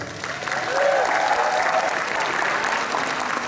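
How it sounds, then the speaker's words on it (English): Convention audience at an anime convention's opening ceremony applauds steadily, a dense wash of clapping that holds at full strength throughout with a faint tonal whistle near the start. "So give yourself a round of applause"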